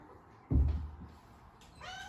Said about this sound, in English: there's a cat that wants to come in